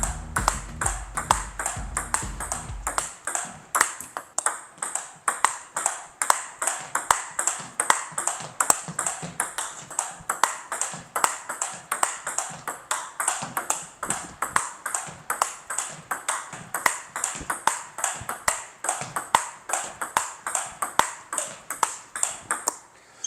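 A rapid, steady rally of sharp backhand table tennis hits, crisp clicking strikes repeating about twice per second, close and fairly loud with no talking.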